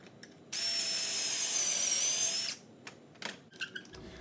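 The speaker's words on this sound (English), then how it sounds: "I used my trusty 18-volt brushless Ryobi drill to get it done." An 18-volt brushless Ryobi cordless drill bores a pocket hole in pallet wood through a Kreg jig, giving a steady two-second whine close up, followed by light clattering handling noises.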